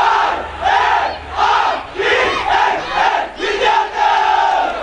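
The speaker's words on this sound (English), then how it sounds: "We see a cheering crowd." A crowd at a school rugby match between Vidyartha College and CWW Kannangara chants and cheers loudly in rhythmic, rolling waves after a converted try, with repeated surges of voices close and full.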